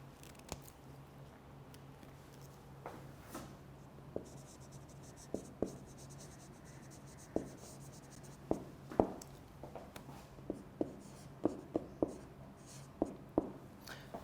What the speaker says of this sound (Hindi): मैं लिख भी देता हूँ.